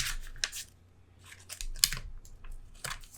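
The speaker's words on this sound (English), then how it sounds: "we're just going to trim these corners" Scissors trimming the corners of paper and a vellum pocket for a Stamperia Daydream mini album, several crisp close-up snips in quick bursts with short pauses between.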